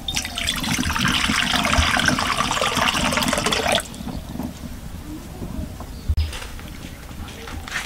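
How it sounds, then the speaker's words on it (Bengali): Water poured into a wok while making palm pitha, a loud rushing splash for nearly four seconds, then quieter sloshing with a sharp clink near the end. "এখন আমি কড়াইতে জল দিয়ে দেব।"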